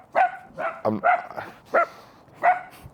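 A dog barks in the morning, six sharp, loud barks spaced irregularly across a few seconds, close and alone with no talk.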